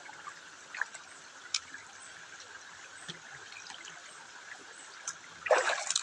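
Faint spring water trickles steadily in a quiet forest, with a few soft clicks and a brief louder splash near the end.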